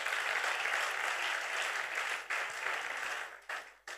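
A church congregation claps in a dense, sustained burst of applause that fades briefly and then dips away near the end, with no voices standing out.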